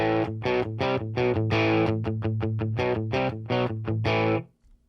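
Electric guitar played through the Combo Crunch channel of a Boss Katana amp, the basic crunch setting, distorted chords struck in a steady rhythm of repeated chugs that ring loudly and evenly, then stop abruptly near the end.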